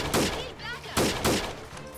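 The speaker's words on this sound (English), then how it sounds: "We can just shoot at them from the side here." Two loud, close bursts of gunfire about a second apart ring out in the video game Freeman Guerrilla Warfare, each a sharp crack followed by a short decaying tail.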